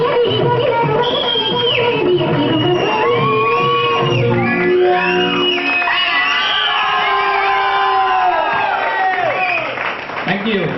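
Audience cheering, shouting and applauding after a song at an entertainment event, a loud continuous crowd roar with children's shouts mixed in, close and dense throughout.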